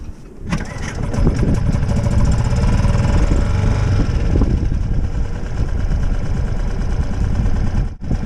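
Outboard boat engine cranks into life after a brief start and settles into a steady, loud running drone close by, continuing without a break.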